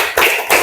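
A group claps in unison for a Banyumas chant, two loud, close, sharp strikes evenly spaced about a third of a second apart, with no voices between them.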